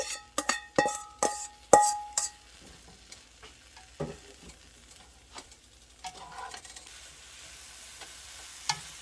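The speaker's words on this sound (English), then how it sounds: "I'm just going to saute my broccoli" Broccoli sautéing in a pan: several sharp metallic clinks and knocks of a utensil against cookware at first, then a quiet sizzle with occasional stirring scrapes.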